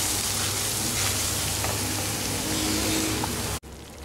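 Spices frying in a pan with turmeric, red chili powder and salt being mixed for a brinjal dish, a steady loud sizzle with stirring scrapes that cuts off abruptly near the end.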